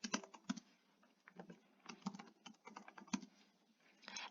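Keys tapped on a computer keyboard while an email address is entered, a quick, irregular run of light close clicks at low volume.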